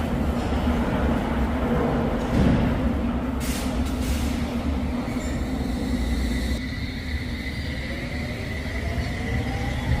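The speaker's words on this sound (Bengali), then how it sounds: "কি সুন্দর চলে যাচ্ছে ট্রেন" A train in Russia rumbles past leaving a station, with steady low noise, a brief hiss of air brakes, and thin metallic squeals from the wheels.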